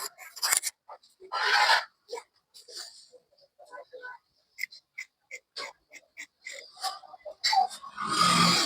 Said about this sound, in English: Then I'll trim off exactly what I have here.